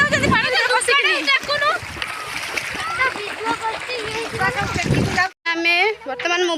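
Along the Baitarani river at Jajpur during a Triveni Amavasya gathering, people wade into the water and splash it loudly and continuously. A crowd of voices, including children, talks and calls out over the splashing.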